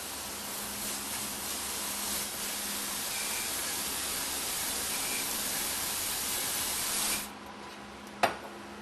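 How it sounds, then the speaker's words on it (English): Oil drains from a hose in a steady, close hissing rush while a Meyer E 47 valve block is rebuilt, then stops abruptly, followed by a single sharp knock. "First we'll drain out the oil that's accumulated."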